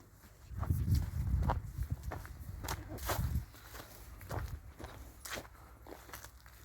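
Hooves clop slowly on the ground as a working mare walks nearby, a few soft irregular steps with quiet rustling between them.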